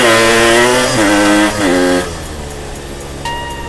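A tuned Yamaha RX King motorcycle engine revs hard in rainy weather, loud and close, its pitch stepping up and down in a few bursts before dropping back to a lower idle.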